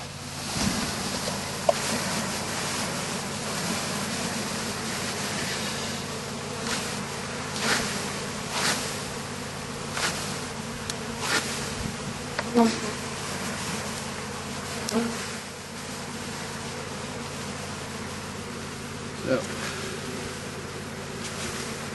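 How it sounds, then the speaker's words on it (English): Honey bees being poured into a hive buzz continuously in a dense, close swarm hum, with occasional soft knocks and rustles over a low steady background. "Now we're just going to pour these bees in there"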